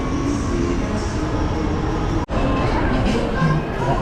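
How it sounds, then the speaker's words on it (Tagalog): Rail transit train arriving at the Araneta Center Cubao station, a loud, continuous rumble and roar of cars on the track with a brief cut partway through. "Waiting for the train."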